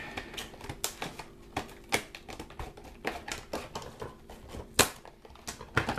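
Scissors snipping close by in a series of sharp, crisp cuts, irregularly spaced with short pauses, some louder clicks standing out over a quiet room.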